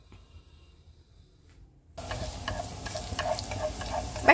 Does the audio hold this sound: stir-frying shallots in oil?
yes